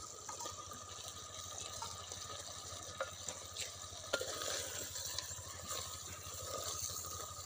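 Fried potatoes stirred into chicken in a clay pot, giving a steady low sizzle with scattered scraping clicks from the stirring, close but quiet and without talk.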